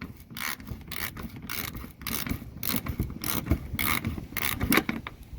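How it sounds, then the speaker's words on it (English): A hand ratchet loosens a bolt on a car's bumper cover near the inner fender liner, giving close, rapid bursts of clicking and rasping in an irregular rhythm, with no voices. "I'll take loose this bolt here."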